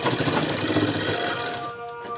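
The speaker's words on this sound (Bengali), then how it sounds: "এইটাকে আমরা ডবল ভাঁজ করে দিচ্ছি আর সেলাই আরম্ভ করছি।" A sewing machine stitches through fabric folded double, running in a steady, rapid mechanical chatter close by before slowing and easing off near the end.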